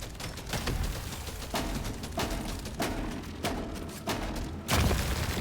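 Gunfire in Deep Rock Galactic: Survivor, a steady series of punchy shots and thuds spaced roughly every half second, moderately loud with a heavier boom near the end and no talking.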